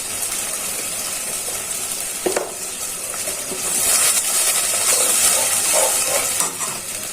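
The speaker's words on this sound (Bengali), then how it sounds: "দিয়ে দিচ্ছি পরিমাণ মতো রসুন বাটা" Ginger and garlic paste frying in a pan for a Bengali country-chicken curry with jackfruit seeds, a steady close sizzle and hiss with a few stirring scrapes, growing louder and brighter midway.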